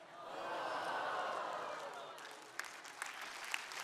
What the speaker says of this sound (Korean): 박수 쳤어요.